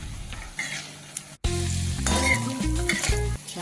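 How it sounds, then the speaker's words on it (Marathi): Okra vade fry in hot oil on a low flame, a continuous dense sizzle with stirring scrapes and soft clinks of a utensil against the pan, close and steady after a brief pause. "छान असे तळून घेऊ आपण"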